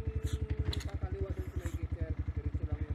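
A motorcycle idles close by on a road between San Mateo and Antipolo, its engine putting out a steady, fast rhythmic thumping throughout while people talk over it.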